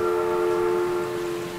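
Steady sustained whistle-like horn tone of the monstrous spider train Choo Choo Charles in a horror video game, loud and continuous without a break, no voices over it.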